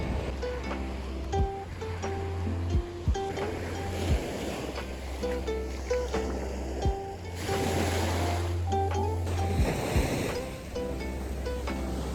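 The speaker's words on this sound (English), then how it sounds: "That was a big wave." Ocean waves surge and wash in repeated rushes under a constant low engine drone and wind noise, close and loud, as though heard from a moving boat.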